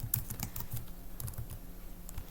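Typing on a computer keyboard while writing in MS Word, a quick run of soft, close key clicks at an uneven rhythm, fairly quiet.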